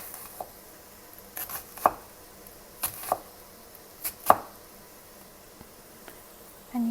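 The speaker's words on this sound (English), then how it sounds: "we're going to dice the onion." A knife dicing an onion on a cutting board in a quiet home kitchen, with soft, irregular single chops and taps spaced about a second apart, close and gentle, with no talking.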